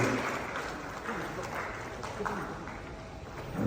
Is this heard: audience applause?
yes